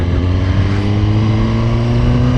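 A brand new 2023 Suzuki GSX-R 1000 motorcycle engine runs loud and close, a steady low drone with strong harmonics and no talk over it.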